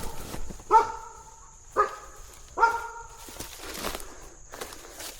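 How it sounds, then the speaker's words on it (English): A dog barks three times in a row, each bark sharp and fairly close, followed by quieter rustling and movement with a steady high tone running underneath. "My dog's freaking out because I moved."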